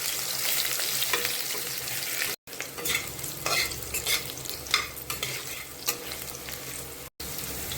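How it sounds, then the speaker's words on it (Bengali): Potatoes fry in hot oil in a pan for a fish-and-potato curry, a steady close sizzle with occasional stirring scrapes, running continuously apart from two brief cuts. "এখন আলুটা লাল লাল করে ভেজে নেব।"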